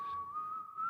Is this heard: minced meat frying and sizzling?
no